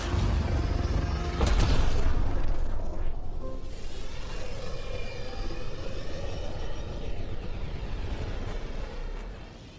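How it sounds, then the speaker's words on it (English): The Tempest spaceship departs in the video game Mass Effect Andromeda: a loud rumbling engine roar with a sharp burst early on, settling into a sustained deep whoosh that fades toward the end, with no talk. "this is the Tempest, Ident 2527, prepping to depart."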